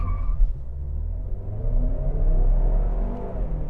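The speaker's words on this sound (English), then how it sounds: "Let's do a launch here and see what this is like." 2020 Ford Mustang with a turbocharged four-cylinder doing a launch from inside the cabin, a low muffled engine rumble and road roar that swells steadily as the car accelerates, with no talk.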